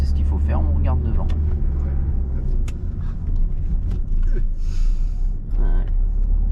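Car pulling away from a stop and accelerating during a driving lesson: steady low engine rumble rising as it gains speed, heard from inside the cabin with people talking over it throughout.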